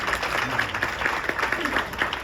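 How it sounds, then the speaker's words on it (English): Dinner guests at an ARCHway discovery dinner in Fort Myers applauding an employee, a short patter of clapping with a fairly regular beat against a murmuring room. "she deserves a round of applause"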